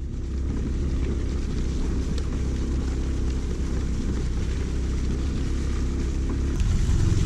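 An Aprilia Storm off-road scooter on a ride toward snowy Kalinchowk gives a steady, low engine drone and road rumble, constant and close, with a faint hiss of wind over it and no talk.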